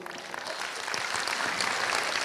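Audience applause at a leadership business talk, a dense steady clatter of many hands clapping that swells slightly toward the end, with no voices over it.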